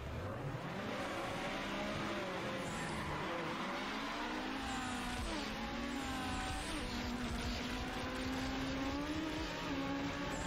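Cars revving hard in a drag race in a street racing video game, with a loud, steady engine drone climbing and dropping in pitch through gear changes across the whole stretch, no talk over it.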